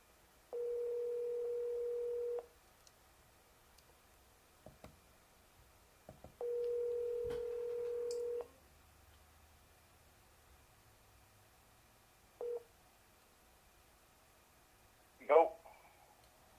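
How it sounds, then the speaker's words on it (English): Telephone tones while calling someone back: two long, steady tones of about two seconds each, separated by a pause, then a short beep and a brief chirp, all fairly quiet with no talking. "Somebody just called. Let me call them back."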